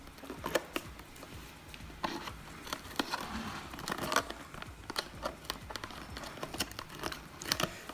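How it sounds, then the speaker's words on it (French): Packaging for an Intel i7 8700K processor being handled and opened, with quiet close crinkling, rustling and small tearing sounds in irregular bursts. "Le moment est venu, on va ouvrir le 8700."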